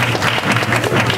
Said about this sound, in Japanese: 今一度、金堂たちに大きな拍手をよろしく。